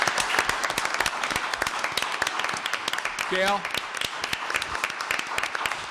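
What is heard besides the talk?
applause at a town board meeting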